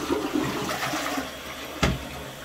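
A toilet flushed by pressing the button on a wall-mounted installation cistern: a loud rushing gush of water pouring and swirling throughout, close by, with a brief knock near the end and no talking.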